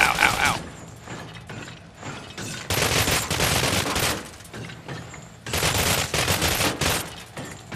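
Bursts of automatic gunfire from a weapon in the first-person shooter Cryostasis, with loud rapid volleys separated by quieter mechanical clatter and game effects, and no talking.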